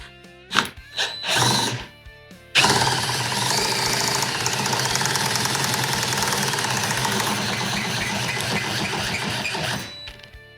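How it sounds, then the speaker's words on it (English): A few short whirring bursts, then a power drill cranking a garage lift runs loud and continuous for several seconds, grinding steadily before cutting off. "use a power drill to do this."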